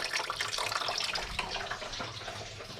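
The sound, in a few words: coolant draining from Toyota RAV4 after removing cap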